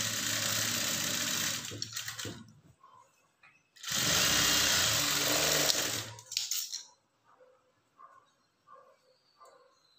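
An electric sewing machine stitches a blouse lining in two sustained bursts of fast, even whirring, each a few seconds long, close and loud with quiet handling sounds between and after.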